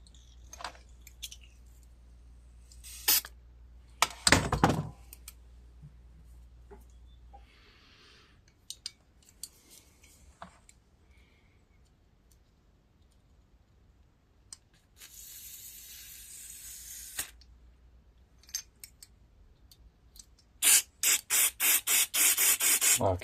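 Short hissing bursts of carburetor cleaner spray into the carburetor of a John Deere Z445 zero-turn riding mower, coming in several spurts separated by quiet stretches, with a rapid series of sharp sprays near the end.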